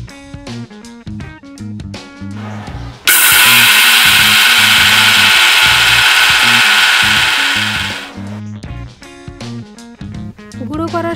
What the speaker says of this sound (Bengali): শুকনো করা সর্ষেটা মিহি করে গুঁড়ো করে নিন।